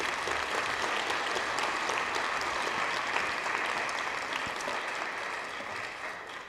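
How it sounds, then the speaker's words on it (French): A round-table conference audience, linked between Paris and Lyon, gives sustained, even applause for the speakers that slowly tapers off at the end. "Mesdames et messieurs, Paris comme Lyon, je vais vous demander d'applaudir vos intervenants."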